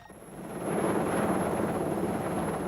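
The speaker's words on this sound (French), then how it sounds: "Au lever du jour, les avions décollent." Airplanes taking off at dawn for a search after a violent storm near the Bermuda Triangle; a broad engine roar swells over the first second and then holds steady and loud, no voices.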